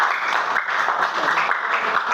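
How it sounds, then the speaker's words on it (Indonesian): A classroom full of people claps steadily for a couple of seconds for a student group, dense and loud, with a few voices mixed in. "Yuk tepuk tangan buat kelompoknya Kaira"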